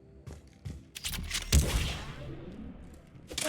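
Shotgun blasts in the sci-fi shooter Mass Effect 3, several sharp reports in quick succession with one heavier boom partway through, fairly quiet and set against low background battle noise.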